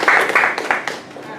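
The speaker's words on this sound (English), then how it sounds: "Well done. Good. Applause." Audience applause at a speech event, a burst of dense clapping that fades and thins out over about a second and a half, with some voices mixed in.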